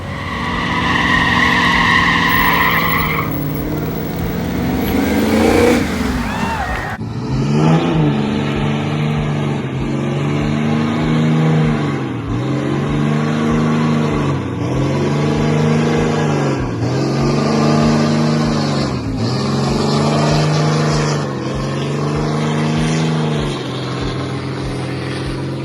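A classic car at a hot springs car show revs hard during a smoky burnout, engine pitch climbing and then pulsing in a steady rhythm of repeated revs. The sound is loud and close, with no talking over it.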